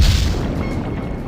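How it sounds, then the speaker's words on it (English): A film sound effect of submarine torpedoes being fired: a single loud, deep boom with a heavy low rumble that decays over about a second, alone without speech. "Torpedoes away, sir."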